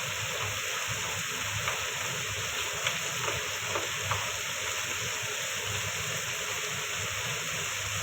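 Low, steady sizzle of chicken masala frying in a pan after ginger paste goes in, a soft continuous hiss with faint scattered pops and no talking.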